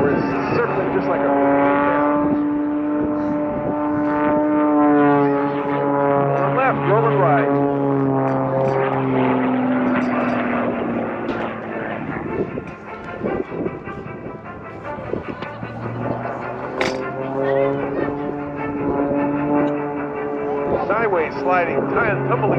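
An aerobatic airplane at an air show snap-rolls and tumbles, its engine droning loudly and steadily with rising and falling pitch sweeps as power changes, under continuous commentary from an announcer.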